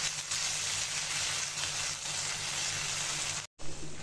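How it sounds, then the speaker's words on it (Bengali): Yogurt being fried with spice paste in a pan for an egg korma: a steady, soft sizzling hiss throughout, faint and even, with a brief dropout near the end. "টক দইটা দিয়ে ভালো করে মশলার সাথে কষিয়ে নেব।"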